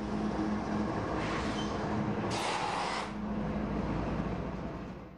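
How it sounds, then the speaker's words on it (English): Freight train hauled by four diesel-electric locomotives rumbling past, a steady loud low roar with a brief rushing swell midway before easing off, no voices. "These diesel-electric locomotives are hitched together. This train requires 4 locomotives."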